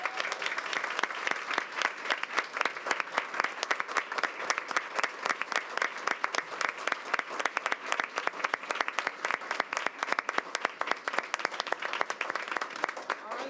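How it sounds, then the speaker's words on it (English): A school board meeting audience gives students a sustained round of applause, dense steady clapping from many hands in a hall for the full stretch, with faint voices mixed in. "Let's stand to our feet and give them a round of applause and congratulate them."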